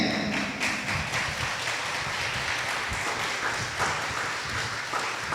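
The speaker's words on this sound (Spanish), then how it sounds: "vamos a dar un fuerte aplauso al Señor." A church congregation gives loud applause to the Lord during an online Sunday service, steady clapping from many people that sustains for several seconds, with faint voices mixed in.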